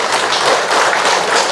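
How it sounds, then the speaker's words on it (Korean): A church congregation applauds a deaconess with dense, steady clapping that fills the room and holds evenly throughout, with no voices on top. "박수 한번 쳐드릴게요."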